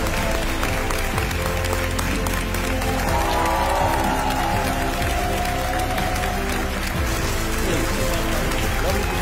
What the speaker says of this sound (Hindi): तालियों के साथ उनका स्वागत।